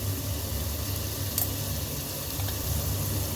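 Spices with turmeric and asafoetida frying in a pan for millet kichadi, a steady soft sizzle with a faint hum beneath, a couple of light clinks, no talking.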